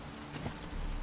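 Hooves of Roach, a horse in The Witcher 3, clip-clop in a quick uneven rhythm over a steady low rumble, fairly close and moderately loud with no talk.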